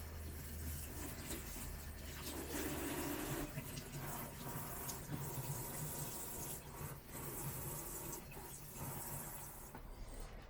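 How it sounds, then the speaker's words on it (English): Steady rush of water from a tap in a small RV kitchen as eggplant slices are rinsed, broadband and continuous for the whole stretch with faint clatter and no talk. "So I think it's about time to rinse these off."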